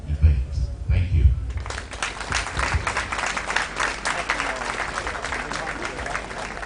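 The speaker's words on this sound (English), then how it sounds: "A thunderous round of applause." Audience applause at a school's 67th anniversary event, St. John's School in Sekondi, with a dense sustained round of clapping from a crowd that swells after a brief spoken lead-in and continues steadily.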